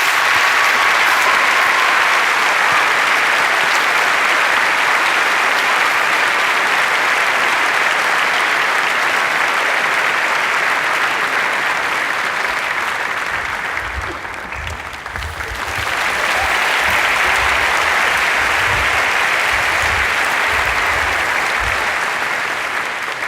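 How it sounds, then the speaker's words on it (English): An audience at an evening conversation event gives long, loud, continuous applause, a dense unbroken roar of clapping that dips briefly midway before swelling again. "another round of applause, I think, for Zara Kay"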